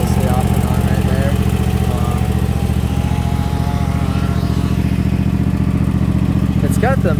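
A Toro TimeCutter riding mower with MyRide suspension runs loud and close, its engine droning steadily with a rough clattering idle throughout, briefly joined by a faint higher squeak near the end.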